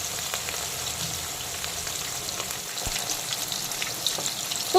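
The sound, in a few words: rohu fish frying in deep oil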